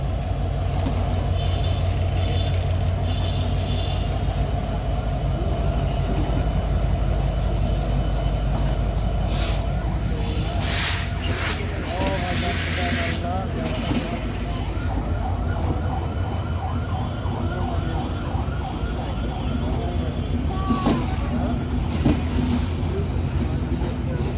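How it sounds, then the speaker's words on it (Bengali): The intercity Chitra Express, a Dhaka-bound 763 Up train, departs Alamdanga station with a steady loud rumble of rolling wagons and clattering wheels, with brief bright horn or brake bursts partway through and no talk. "আলমডাঙ্গা ছেড়ে যাচ্ছে ঢাকা অভিমুখী সমনা সেতু রোডের চিত্রা এক্সপ্রেস"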